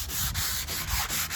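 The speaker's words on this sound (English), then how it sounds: "Next up, sand it" A wooden patio sofa being sanded with 220-grit paper, steady close rhythmic back-and-forth rasping strokes, about five quick passes with no talking.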